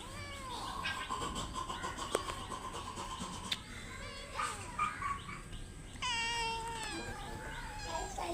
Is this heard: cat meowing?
yes